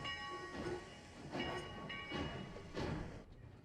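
Train in a scene from Back to the Future Part III, a steady rumbling rail sound with rhythmic surges of clatter and faint whistle-like tones, fairly distant and continuous throughout.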